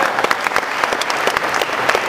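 Audience applause at a convention panel with Transformers G1 voice actors, a dense steady clapping from a nearby crowd filling the whole stretch without speech.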